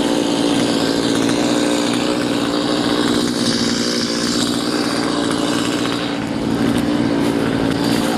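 A chainsaw runs steadily and loudly up close throughout, its engine holding a constant high drone while cleaning up trees downed by snow and ice storm damage.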